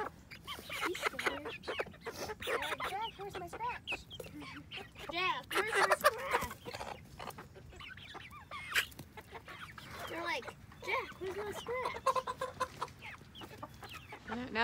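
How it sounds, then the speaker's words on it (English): Backyard farm chickens clucking and squawking nearby in repeated bursts, with occasional people talking among the calls. "Let's go check on the chickens. So here are chickens."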